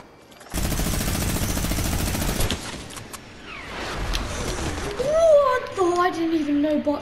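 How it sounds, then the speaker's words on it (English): Bursts of automatic gunfire in a battle royale video game crackle loudly through the first few seconds, followed by scattered shots and game effects as a person talks over the action. "oh, I hear that gunfire."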